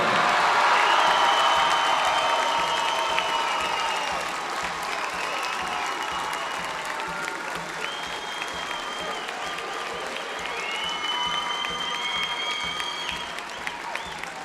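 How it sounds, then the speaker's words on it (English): A large audience at a high school basketball championship game in a gym applauds steadily, a dense, loud wash of clapping that runs the full length, easing slightly after the opening seconds, with faint cheers mixed in. "Let's have one more round of applause for our all-tournament team"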